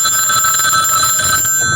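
A telephone rings steadily and loudly throughout, a bright sustained ringing tone with no talk over it, heard in a work setting.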